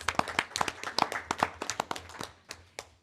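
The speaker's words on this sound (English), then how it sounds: "so if we can give them a round of applause" A small group claps at a board of education meeting, with sparse, distinct hand claps at close range that thin out and fade toward the end.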